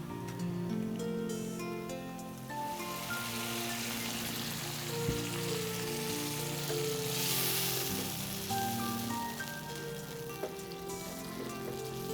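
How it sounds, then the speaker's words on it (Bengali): Dried fish frying as water is poured into the hot pan, producing a continuous crackling sizzle like rain on a surface, with steady tonal hum underneath and no speech. "বেশ খানিকটা ভাজা ভাজা হয়ে গেছে এবার একটু পানি দিয়ে নেবো"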